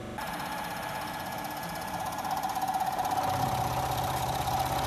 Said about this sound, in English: He's going to show me the difference using the side milling versus the face milling with the carbide.